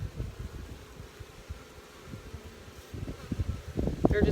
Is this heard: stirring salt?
no